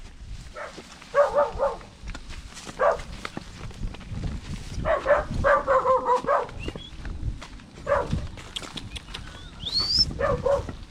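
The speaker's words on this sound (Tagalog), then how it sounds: "Agresibo yung aso" Several bursts of loud, harsh dog barking in quick clusters, fairly close, with some yips between and background noise.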